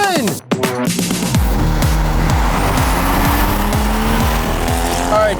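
A Mark IV Toyota Supra, modified rather than stock, roars under hard driving, its engine note rising and falling through repeated gear changes with tire squeal, loud and close, after a brief sharp sound at the start.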